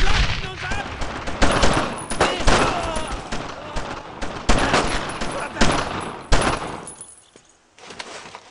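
Heavy gunfire in Brothers in Arms: Road to Hill 30, a World War II shooter: loud, close machine-gun bursts and rifle shots in irregular clusters, with brief shouted voices mixed in.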